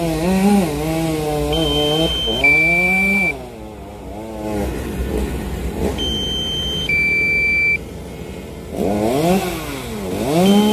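A chainsaw cuts into a coconut tree, revving up and down in loud repeated surges with pauses between, and a few short electronic beeps break in.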